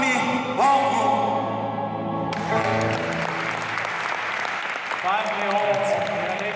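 An audience claps after a recited poem set to music, with a burst of applause rising midway and continuing steadily while someone speaks over it near the end.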